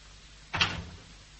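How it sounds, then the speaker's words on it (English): A door shuts in a vintage radio detective drama, a single short thud-and-rattle of moderate loudness that fades quickly into a quiet background. "Shut the door, Tinker."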